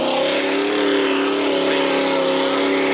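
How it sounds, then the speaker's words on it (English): Truck engine revving hard and steady while its wheels spin in thick mud, a loud continuous roar with a rising-falling harmonic whine held close up for the full stretch. "To spin the wheels fast enough to actually be able to get them working."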